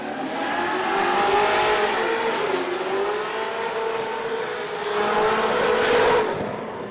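A drift car's engine revs hard through a competition lap at Lake Erie Speedway, a loud, sustained snarl that rises and falls with the throttle and peaks again near the end.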